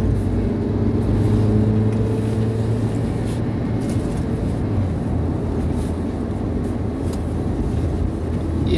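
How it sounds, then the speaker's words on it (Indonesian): An NPM bus speeds along the Lintas Timur highway between Palembang and Betung in South Sumatra, giving a steady, loud roar of engine and road noise with a low hum and faint rattles throughout. "bus NPM teman-teman, meliuk-liuk dengan kecepatan yang luar biasa teman-teman"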